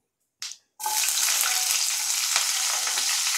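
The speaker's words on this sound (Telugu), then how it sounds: "ఆనియన్స్ కొంచెం గోల్డెన్ బ్రౌన్ కలర్ వచ్చేంత వరకు మనం వేయించుకుందాం" Onions hit hot oil and fry in a pan, meant to cook until golden brown for a quick high-protein chicken dish, with a brief tap before a loud, steady sizzle that holds without pause.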